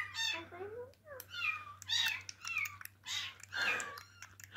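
Several high, close kitten meows come one after another in short bursts, over a low steady hum.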